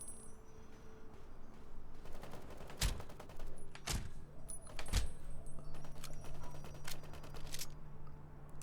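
Gunfire in Fallout New Vegas with the Lucy's Revenge mod, battling aliens: three sharp, distinct shots spaced about a second apart over a busy, clattering game background.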